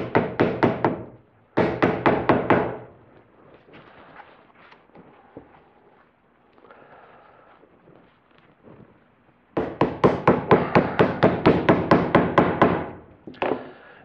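A fabric-wrapped maple hammer block taps on pool table cloth in fast, close bursts of muffled knocks, followed by a quieter pause, then another long run of rapid taps.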